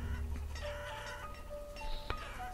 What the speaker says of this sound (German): Hühner hier ohne Ende, kann man die irgendwie schlachten?